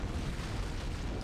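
An antimatter charge explodes aboard a ship in Halo CE, heard as a brief, muffled, low rumbling blast that fills the whole moment with no voices.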